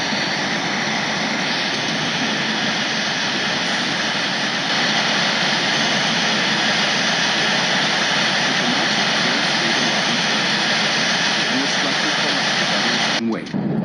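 Small airplane taxiing toward the runway at Miami, a steady loud engine drone with propeller hum that holds for the whole stretch, close and continuous, cutting off abruptly near the end.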